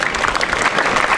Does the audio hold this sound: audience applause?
yes